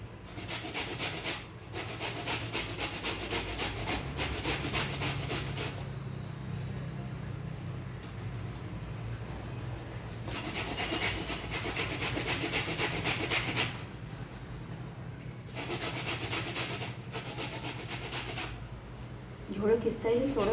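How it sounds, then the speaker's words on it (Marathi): Guava pulp is grated in repeated rhythmic bursts of scraping strokes, close and clear, separated by pauses, with a person talking quietly in between. "जेवढं खिसता येईल तेवढं गर काढायचं."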